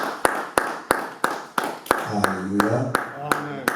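A church congregation claps loudly in a steady, even rhythm to acclaim the Lord, with a voice calling out and singing over the clapping.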